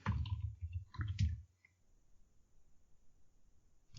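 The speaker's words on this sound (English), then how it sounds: "I'll pull out the trusty old keyboard here." A few quick clusters of plastic keyboard clicks sound close and fairly quiet, then fade into a long near-silent stretch with only faint room noise.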